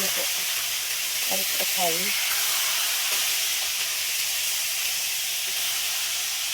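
Fish frying in a pan of hot oil for dinner, a steady broad sizzle running throughout, with a brief voice near the start.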